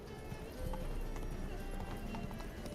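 Geralt's horse gallops in The Witcher 3, a steady clip-clop of hooves over a low rumbling game soundscape, with a brief whinny-like cue and no talk in the moment.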